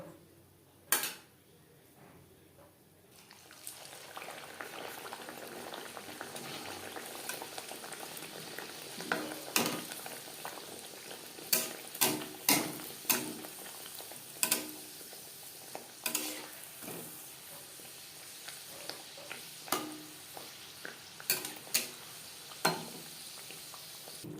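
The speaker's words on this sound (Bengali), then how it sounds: "এভাবে প্রত্যেকটা কচুরি ভেজে নেব" Green pea kachori deep-frying in a pan of hot oil, with a steady bubbling sizzle and sharp clicks and pops from stirring, no one talking.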